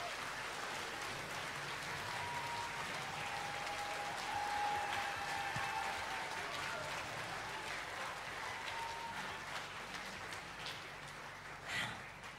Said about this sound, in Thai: ขอเสียงปรบมือดังๆให้วงอีกสักครั้งทีนะคะ